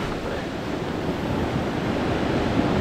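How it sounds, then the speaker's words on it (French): Ocean surf breaks and rushes steadily along the shore while fishing for sea bass from the bank, a dense, continuous wash of waves with some wind buffeting the microphone and no talk. "Ah, double vague, ouais."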